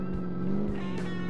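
Rebuilt car accelerating in Car Mechanic Simulator 2015, a brief, fairly quiet engine rev with a steady harmonic drone and no talking.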